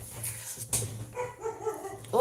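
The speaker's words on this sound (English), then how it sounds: "Oh, my dogs are barking now." Dogs barking in a home, a few short barks and yelps scattered under and between bits of talk, moderately loud and close.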